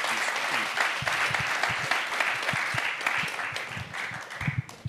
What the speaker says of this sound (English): please give everyone a round of applause